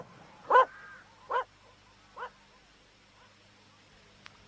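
In a radio drama sound effect, a dog gives three short barks spaced about a second apart. Each bark is quieter than the one before, over a quiet background.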